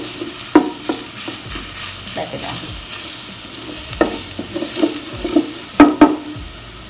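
Crushed garlic frying in a pan, a close crackling sizzle broken by scattered sharp stirring scrapes and clicks, several of them louder near the end.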